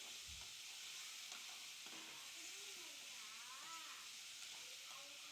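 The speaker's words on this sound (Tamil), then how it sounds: "காளானை போட்டு நல்லா வதக்கி எடுக்கிறேன்." Mushrooms sautéing in a pan for a gravy give off a steady close sizzle. Occasional stirring scrapes and faint tonal squeaks sit over the hiss, with no talk.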